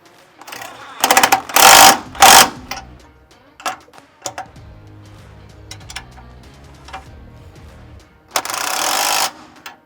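An impact wrench with a deep well socket drives bolts on a Humvee M1123 bumper, giving loud rattling bursts at the start and end, with scattered clicks and metallic knocks between them, close by.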